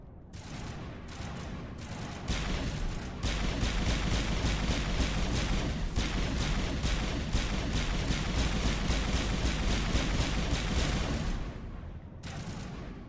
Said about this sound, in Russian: В кого-то он стреляет здесь, окей. А, он снайпер.